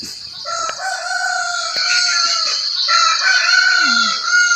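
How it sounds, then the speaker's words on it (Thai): A rooster crows at a home in rural Thailand. One long, loud, close cock-a-doodle-doo is held for several seconds and ends in a falling tail, with a few clucks and faint birdsong around it. "ไก่ขัน"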